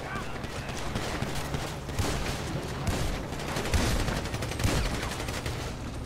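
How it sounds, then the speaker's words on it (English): Shotgun fire in GTA 5 role-play: sharp shots repeating irregularly amid dense, noisy game action, heard at moderate level under people talking. "Got him with that shotty."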